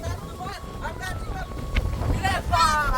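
Strong wind gusts at the edge of a wetland before a storm, heard as a low, rumbling buffeting against the microphone that swells and eases while someone talks over it.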